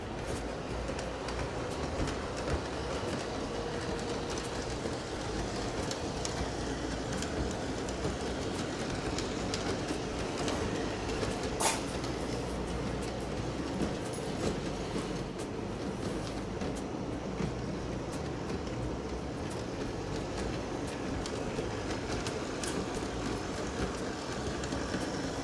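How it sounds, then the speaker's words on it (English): A small model train engine runs through a rough-cut foam layout loop with tight spots, giving a steady, faint rolling rumble with light clicking that holds for the whole stretch, with no voices. "we might as well see if a train will pass"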